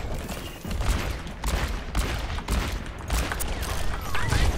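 Rapid gunfire from the video game Overwatch, with McCree's revolver in play, cracking in repeated bursts throughout at a steady loud level with dense crackling noise between the shots.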